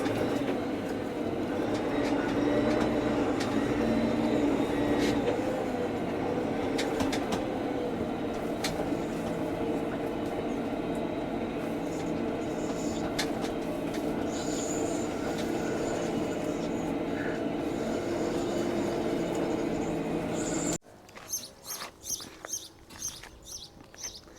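A Deutz-Fahr 6170 RCshift tractor accelerates in automatic mode, its engine giving a loud, steady mechanical drone for about twenty seconds before the sound cuts to quieter, irregular knocks.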